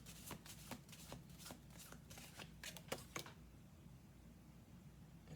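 Tarot cards from a favoured deck are handled and laid on a table, giving a quick run of soft, crisp card flicks and slaps over about three seconds, then a quiet pause with faint room tone.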